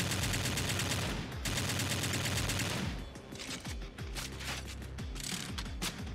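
Video game light machine gun firing bullets in rapid sustained bursts, a dense rattling stream of shots with mechanical clatter, then choppier separate bursts with short gaps.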